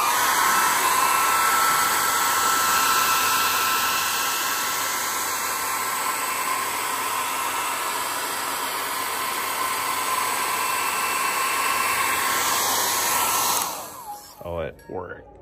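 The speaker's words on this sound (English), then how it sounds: "going to try with a hair dryer, blow dryer, turn it on" A hair dryer blows steadily with a loud, constant whooshing roar, then cuts off near the end, leaving a few brief rustles.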